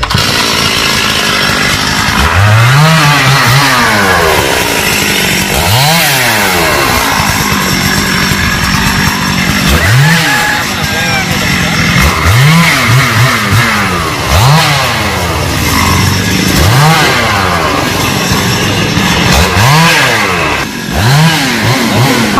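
A chainsaw cuts through small, leaning Sao trees, its engine revving up and dropping back in repeated loud, close bursts with a steady roar between them.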